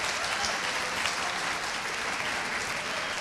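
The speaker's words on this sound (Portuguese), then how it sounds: "Queremos recebê-lo com uma salva de palmas." An audience claps steadily for a guest speaker, an archaeologist and pastor, being welcomed to the stage at a Reformation 500th anniversary sermon; dense, even applause fills the room throughout without letting up.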